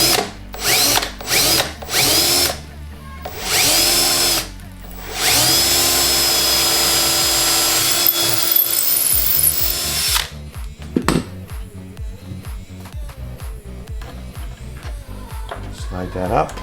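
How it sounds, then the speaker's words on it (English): A power drill boring a hole in a cabinet for hardware, several short whirring bursts followed by a long sustained run. Then comes clattering and handling noise with someone talking. "Then I'm going to drill my hole."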